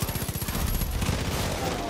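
Gunfire in the Far Cry 5 video game: rapid automatic bursts hammer out in a quick, evenly spaced rhythm at first, then blur into a dense, loud fusillade of overlapping shots.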